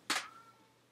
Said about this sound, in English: That's my meowing cat.